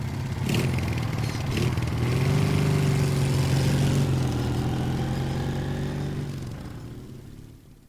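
A motorcycle engine turns over and then revs steadily as the bike pulls away, its loud mid-pitched drone holding for several seconds before fading toward the end.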